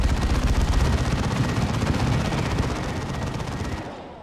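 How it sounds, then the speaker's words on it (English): A Space Marine Dreadnought fires its assault cannon in a barrage during a Warhammer 40,000: Dawn of War 2 match, a dense, loud rattle of rapid gunfire that roars without a break before trailing off. "Is the other Dreadnought also Assault Cannon? It is. Which means they can both do that Assault Barrage,"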